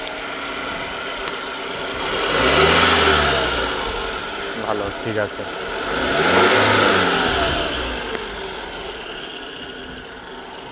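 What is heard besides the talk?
car engine running while checking ignition coils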